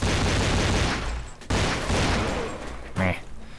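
Rapid automatic gunfire in Counter-Strike: Classic Offensive, long sustained bursts broken by a brief pause, loud and close, with a voice speaking briefly near the end.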